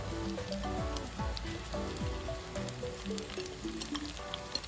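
Chopped onions hitting hot oil already crackling with mustard seeds, fennel and fenugreek for a crab curry, giving a steady close sizzle and spatter throughout, with a faint voice and music-like tones running under it.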